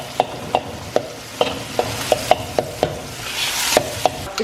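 A spoon stirs and mashes tomato and onion for tawa chicken in a pan, with sharp regular clacks against the metal about every third of a second over a soft sizzle.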